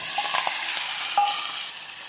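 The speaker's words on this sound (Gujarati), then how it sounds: "હળદર નાખીને બટેકા નાખી દઈશું" Turmeric and potatoes go into hot oil in a pressure cooker for Gujarati potato shaak, giving a steady close sizzle with stirring scrapes and light clinks from a utensil against the pot.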